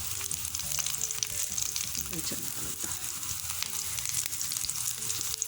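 Tikki snacks shallow-frying in a pan, browning to a reddish crisp, give a steady close sizzle with faint crackles and occasional light stirring, no voices.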